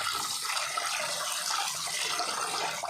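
Ration rice being rubbed and washed by hand in water, a steady close sloshing and splashing wash that runs without pause and with no talk.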